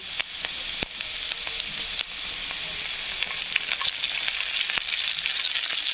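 Onion and curry leaves fry in a pan, giving a steady bright sizzle with sharp pops and spatters and some stirring, close and continuous with no speech.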